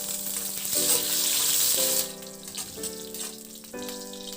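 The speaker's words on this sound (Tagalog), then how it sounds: "Sa kawali maglagay ng mantika, igisa muna yung luya." Ginger sautés in hot oil in a pan (kawali) for a Filipino chicken dish, giving a loud, steady sizzle. Short ringing tonal tones cut in and out over the frying.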